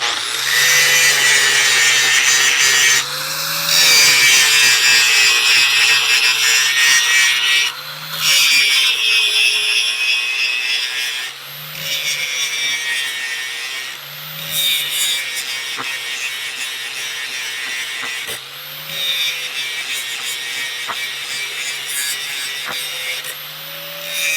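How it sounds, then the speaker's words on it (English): A power tool bevels the corners of a wooden blacksmith's helper tool, a loud, steady grinding whine running throughout, with several brief pauses and dips as the workpiece is repositioned. "And then we'll bevel the corners."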